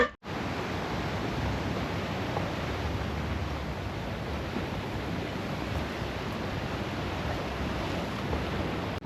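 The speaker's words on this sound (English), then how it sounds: "It's nice, it's right along the ocean." Ocean surf along a boardwalk in Kuta, Bali, a steady, broad wash of waves blended with wind buffeting the microphone, continuous and fairly loud with no voices.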